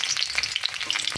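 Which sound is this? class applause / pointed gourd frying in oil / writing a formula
pointed gourd frying in oil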